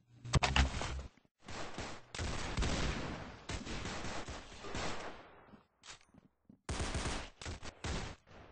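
Rapid bursts of video game gunfire, loud and close, come in several volleys separated by short gaps, ending in a few quick isolated shots.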